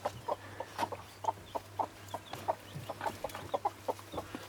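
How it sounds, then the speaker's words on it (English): Hens cluck softly in a chicken coop where a mother hen has a newly hatched chick, giving short repeated clucks in an uneven rhythm over a steady low hum. "We have a chick, a beautiful little chick. The mom is very happy to have a baby."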